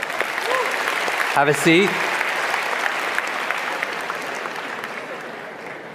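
Audience applause in a lecture hall on learning, a broad steady wash of clapping from a crowd that holds for several seconds, with a brief spoken line from the presenter near the start.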